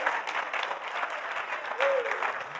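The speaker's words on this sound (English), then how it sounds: "Give the Lord a hand clap of praise." Congregation members clap in praise at a church service, a fairly faint, diffuse patter of many hands with a brief voice rising over it near the end.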